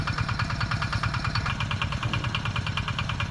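A walking tractor's small engine runs steadily near rice fields, a close, even, rapid chugging beat at moderate loudness with no voices over it.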